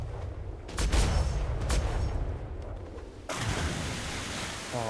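Large ship cannons fire a broadside in a Roblox naval game: a loud volley of heavy booms near the start, then a sharp burst and rushing noise partway through, with no talk.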